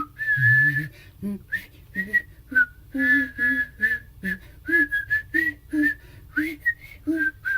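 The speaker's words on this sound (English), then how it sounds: "She could hum and whistle at the same time, and here she is doing a melody we'll all recognize." A woman hums and whistles a recognisable melody at the same time, a clear whistled tune in short phrases above a low hummed line, close and alone with no talking.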